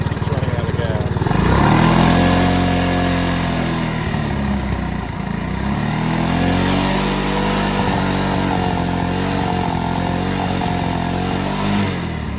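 Honda ATC 185 three-wheeler engine idles close by with a steady chugging putter that rises slightly in a few brief swells, loud and continuous with exhaust rattle.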